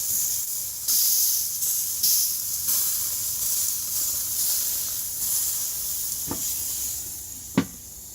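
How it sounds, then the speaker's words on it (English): Aged meat sears in a hot pan with a steady, close sizzling hiss throughout, broken by a few faint clicks and a short sharp tap near the end. "You'll see that we've been searing them for about 4 minutes."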